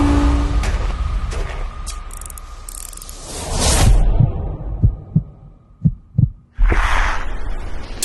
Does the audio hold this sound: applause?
no